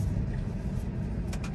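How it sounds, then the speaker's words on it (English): A car passes on the road, a brief, fairly quiet rumble of tyres and engine with a low broadband swell and no talking. "this car passes, we're gonna go out"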